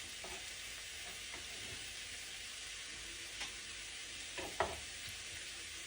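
Onions with garlic and finely chopped ginger sautéing in a pan over a medium flame, a soft steady sizzle with a few light stirring scrapes and taps, close by and fairly quiet, no voices.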